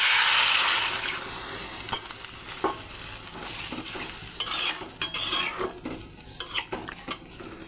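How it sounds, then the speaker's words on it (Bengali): Broth ladled into a pot of vegetables and spices for a drumstick (sajne data) dalna curry: a soft wet sizzle and splash at first, then scattered stirring scrapes and utensil clinks against the pot, with no voices. "মশলার সঙ্গে সবজি মেশানো হয়ে গেছে, এখন পরিমাণ মতো ঝোল দিয়ে দেবো।"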